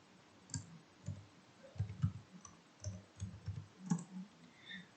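Keys click faintly on a computer keyboard while a command is typed, short bursts of separate taps, quiet and close, with no talking.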